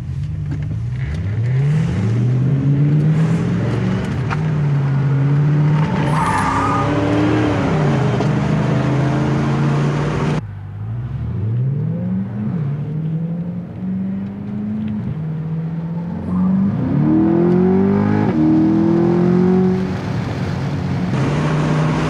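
A C8 Corvette Stingray accelerates hard and pulls away, its engine climbing through rising revs over two bursts of acceleration, loud and close before fading slightly.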